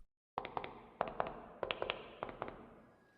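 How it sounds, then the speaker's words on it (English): A flashbang goes off in Blue Archive as a burst of about a dozen sharp, crackling pops in an uneven rhythm, loud and close, then fading out. No voices are heard. "Now flashbang"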